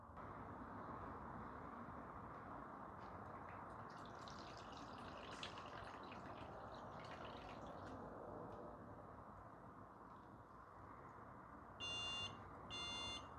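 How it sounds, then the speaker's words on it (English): Water leak alarm on an H5-Pro Hub, set off by an SW2 sensor, giving two short bursts of high electronic beeping near the end after quiet room noise. "the SW2 sensor has detected the water and set off the alarm on the H5-Pro Hub"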